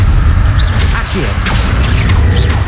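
An Accio spell cast in Hogwarts Legacy gives a whooshing, mechanical pull with a few quick sweeps over a steady low rumble of game sound.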